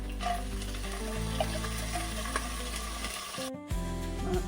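Fennel seeds, garlic-ginger paste and urad dal fry in hot oil, a steady close sizzle with light stirring under a low steady hum and tonal background, briefly cut to near silence before resuming.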